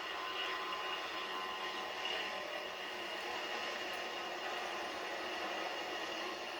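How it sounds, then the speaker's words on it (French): Helicopters in the video game Call of Duty Modern Warfare 2, a faint steady rotor and engine drone that stays even and continuous throughout, with no talk over it. "Barkov déploie des hélicoptères."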